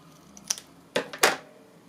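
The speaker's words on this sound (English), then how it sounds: "I'm just going to cut it down a bit" A few quick, sharp snips of scissors cutting paper, close by, with a short pause between an early cut and a pair of louder cuts.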